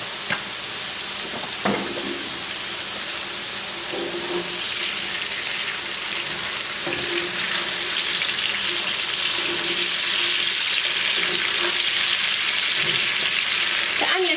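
Onions frying with potatoes in a porcelain-enameled cast iron skillet, a loud continuous hiss and crackle that builds gradually, with occasional clinks and scrapes from a spatula and no talking.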